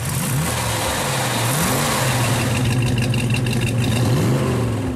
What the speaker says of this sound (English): And it sure sounds like a big block.